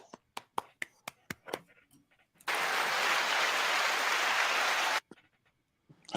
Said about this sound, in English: That was a crowd clapping. I have a soundboard.